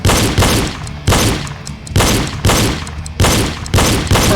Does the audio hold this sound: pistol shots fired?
yes